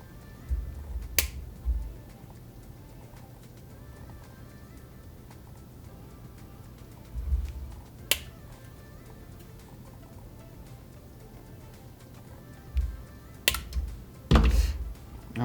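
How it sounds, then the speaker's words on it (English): Cutters snip the trimmed component leads on a soldered circuit board for an FDL 3 build. Sharp, isolated clicks come a few seconds apart, close and crisp, with soft handling thumps between them. "So now we can get in here and cut these short."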